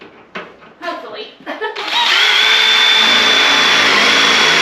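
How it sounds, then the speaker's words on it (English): A power drill boring quarter-inch holes in a barrel, a few clanks and brief bursts before a loud, steady high whine takes over and holds, close by. "Now we're going to drill a couple 1/4-inch holes."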